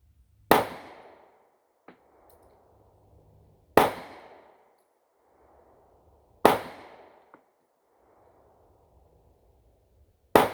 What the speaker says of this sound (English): 5 shots from each one. Both shoot flawlessly.